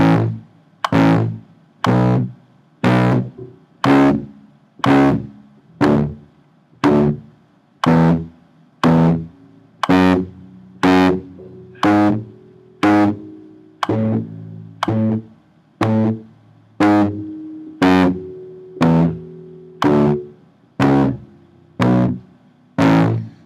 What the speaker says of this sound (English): if you're doing a staccato on quarter notes and you want to make it sound like eighth notes, you got to keep thinking 1, 2, 3, 4, and choking them at the right time.